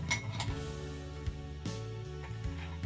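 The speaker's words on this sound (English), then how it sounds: "I'm going to put in 2 big ice cubes." Two big ice cubes are dropped into an old-fashioned glass for a whiskey cocktail, giving a few sharp clinks and knocks at close range over faint background music.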